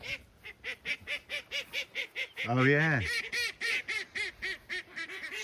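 A duck under a farm brooder shed gives a long run of loud, regular honking quacks, one after another, with a brief stretched call in the middle and a short spoken remark.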